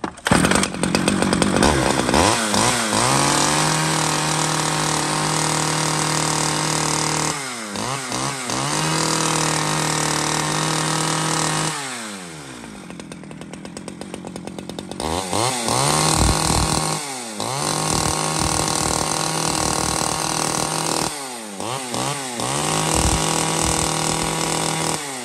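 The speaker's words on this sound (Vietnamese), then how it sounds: "Dòng cưa của máy Đức nhá." A German-made chainsaw runs loud and close, its two-stroke engine held at a high whine and dropping to idle several times before revving back up, with no voices.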